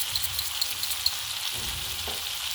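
Liver and kidneys seasoned with cinnamon, paprika and salt sizzle steadily in a pan, with a few soft scrapes of stirring breaking through the constant frying hiss, no voices.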